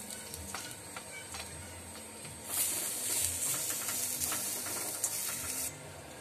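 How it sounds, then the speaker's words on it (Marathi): Grated coconut roasting in a pan, a steady soft sizzle and crackle with light scraping from stirring, louder and brighter toward the middle. "हे आता मी खोबरं भाजून घेणार आहे, जरा लालसर होईपर्यंत परतून घेणार आहे।"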